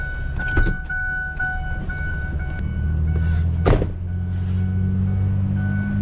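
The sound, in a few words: Ford 6.4 Powerstroke diesel truck engine running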